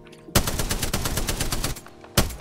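Rapid automatic gunfire rattles in the Apex Legends video game, a sustained loud burst of closely spaced shots lasting nearly two seconds, then one more sharp shot after a short gap.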